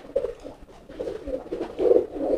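Racing pigeons coo in a steady run of soft, low, throaty rolling calls, several overlapping, with the female about to lay eggs, growing louder toward the end.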